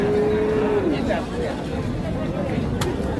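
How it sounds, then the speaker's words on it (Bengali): A low mooing call from a calf at a cattle market rises briefly over a noisy crowd of people talking in the background. "এই সুন্দর বাছুরটা"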